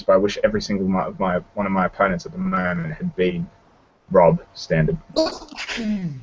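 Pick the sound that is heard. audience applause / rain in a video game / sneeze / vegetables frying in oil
sneeze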